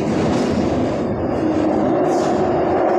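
An MRT train pulls into Sanchong station, a Taoyuan Airport MRT transfer stop, with a steady rumbling drone of wheels and motor heard from inside the carriage and no talk.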